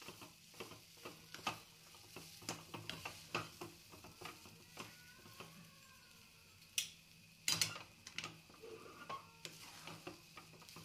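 Semolina sheera cooked with ghee is stirred in a pan, soft scraping strokes and light clicks of the spoon against metal over a faint sizzle, quiet and close, with no voices.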